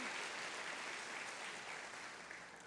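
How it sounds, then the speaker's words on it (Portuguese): A church congregation claps hard and continuously, a dense steady wash of applause that eases slightly toward the end. "Se é para Jesus, então aplaude mais forte que você puder"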